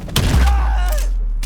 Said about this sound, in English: I'm gonna actually just shoot him.